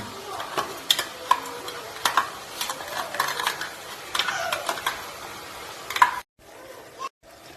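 Ground masala for chicken biryani frying in a pan, a close sizzle with repeated ladle scrapes and sharp metallic clicks against the pot, steady for several seconds before cutting out briefly, no voice over it.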